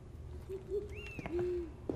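An owl in the owlery of the Harry Potter and the Order of the Phoenix video game gives a few short, soft hoots, close and fairly quiet, over a low background hum.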